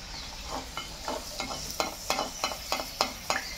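Luchi puffed flatbread frying in oil, a soft bubbling sizzle broken by a regular run of sharp clicks and knocks, like a utensil tapping and turning the bread, fairly quiet and close.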